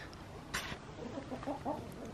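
Chickens on a farm on a frozen morning give soft, quick clucks in a short cluster, fairly faint and close, with a brief rustle just before.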